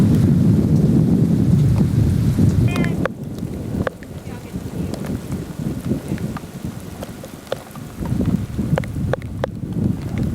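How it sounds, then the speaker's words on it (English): Heavy rain pours down steadily during a desert Southwest storm, a dense close wash of water with gusty wind buffeting the microphone and faint sharp drips, with no clear thunderclap standing out. "Like in the pouring rain"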